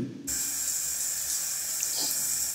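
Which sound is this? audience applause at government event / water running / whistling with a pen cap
water running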